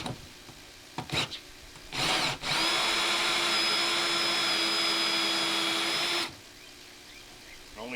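A hole saw bores into a Rubbermaid plastic tub for an aquaponics grow bed, with a few short bumps and a brief burst before a steady, loud whining drill run of about four seconds that then stops abruptly.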